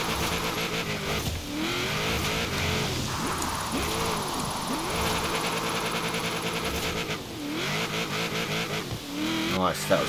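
In Forza Horizon 4, a drifting car's engine revs up and down in rising and falling sweeps, and tire squeal runs through a busy, continuous stretch of engine noise.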